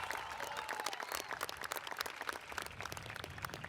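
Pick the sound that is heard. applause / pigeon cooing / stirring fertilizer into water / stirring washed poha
applause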